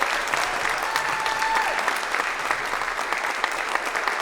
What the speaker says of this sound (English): So give them a round of applause for doing that.